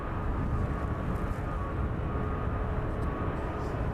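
A Jet2 airliner taxiing onto its stand at East Midlands Airport in the evening makes a loud, steady jet-engine roar with a faint high whine, continuous and close throughout.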